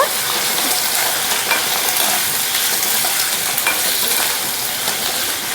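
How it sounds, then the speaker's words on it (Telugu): Steady, loud hissing sizzle of green chilies frying in oil in a pan over a coal stove, a continuous close crackle with faint stirring scrapes and no talk. "పచ్చిమిరపకాయలు ఇవన్నీ వేగిన తర్వాత"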